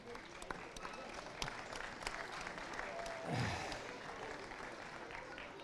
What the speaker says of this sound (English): round of applause for the boys there